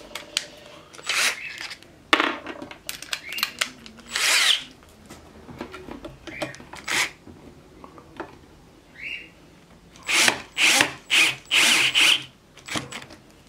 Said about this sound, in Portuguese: Deixa eu colocar na parafusadeira aqui, vai ser mais rápido.